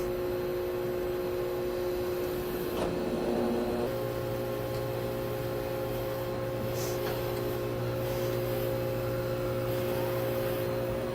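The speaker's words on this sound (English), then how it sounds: "what I got to do here is break the beads and bring those together" A Hunter Revolution tire changer breaks the tire beads with a steady mechanical hum and whir, a brief heavier surge partway through, and the machine running continuously up close.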